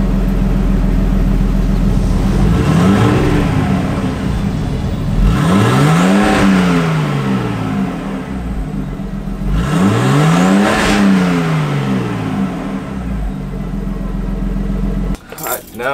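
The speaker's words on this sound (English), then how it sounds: "I'll do a little couple revs so that you can hear what a stock RV20 with a stock muffler exhaust sounds like" Stock Nissan Skyline R32 with its factory muffler exhaust, revved twice at idle: two rising-and-falling engine sweeps, close by and steady, over a constant idle rumble.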